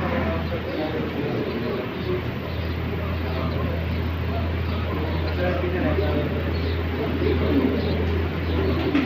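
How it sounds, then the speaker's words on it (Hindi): Pigeons in a loft in Saudi Arabia coo softly and repeatedly beneath a constant low background hum, with voices present throughout. "बहुत ही नायाब कबूतर हैं।"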